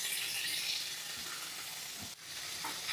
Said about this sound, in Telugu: మరీ ఎక్కువ ఫ్రై చేసుకోవద్దండి